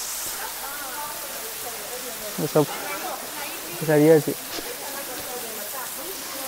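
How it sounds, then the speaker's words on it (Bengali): Umlawai waterfall at Cherrapunji in Meghalaya, a small but striking fall, gives a steady, even hiss of falling water throughout, with people talking briefly over it. "ঝর্ণাটা কিন্তু খুব বড় না, কিন্তু দেখতে দুর্ধর্ষ লাগছে"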